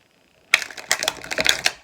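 A deck of tarot cards shuffled up close, a rapid run of crisp riffling clicks and flutters starting abruptly after a moment of quiet.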